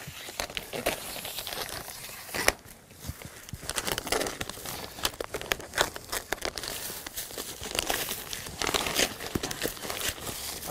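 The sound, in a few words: protective plastic wrapping being removed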